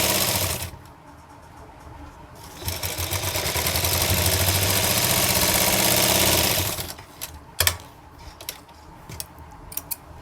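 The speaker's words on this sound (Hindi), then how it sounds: "अब हम इसमें भी इसी तरह से हम सिलाई लगा लेंगे" A sewing machine stitches an umbrella frock for a 10-12 year old girl, its steady rapid mechanical whir running close and loud for several seconds before stopping, with faint handling clicks before and after.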